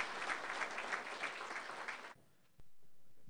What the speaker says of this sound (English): I think that deserves a nice round of applause.